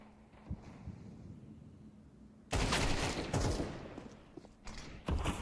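Gunfire from a Counter-Strike esports match, with a headshot landing: a quiet stretch breaks into a loud burst of shots, then a few shorter follow-up bursts.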